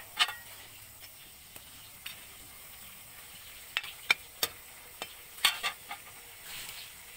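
Tilapia simmering in coconut milk in a covered pan gives a soft steady sizzle, with a handful of sharp clicks and taps from the lid or utensil scattered through it, close and fairly quiet.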